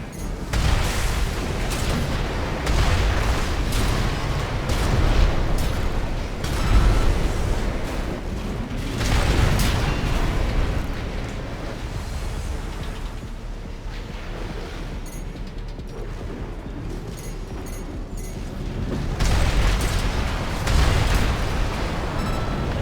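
Deep, rumbling booms and roaring blasts from a reactor core overloading and exploding in the mech video game Armored Core 6, with heavy low-end surges rising and falling across the scene and a final swell near the end.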